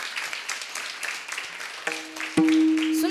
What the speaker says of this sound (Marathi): एकदा जोरात टाळी वाजवायची